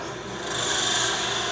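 A brad point bit is hand drilled into hard olive wood, giving a steady, close, rasping grind with no pauses.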